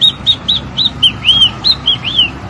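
A parrot imitating the call of a great kiskadee (bem-te-vi): a rapid run of about a dozen short, clear, high whistled notes. Some notes rise and some slide, and they sound close and fairly loud over a faint background hiss.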